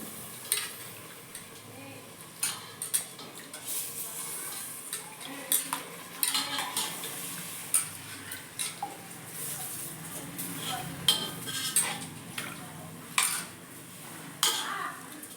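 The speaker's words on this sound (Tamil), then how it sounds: "அரிசியோட மசாலா, சிக்கன் எல்லாமே நல்லா கலந்து விட்டுக்கிட்டு இருக்கேன்." A metal spoon scrapes and clinks against a pot while rice, masala and chicken are stirred together for homemade biryani, with soft irregular taps and scrapes at a steady pace and faint background noise.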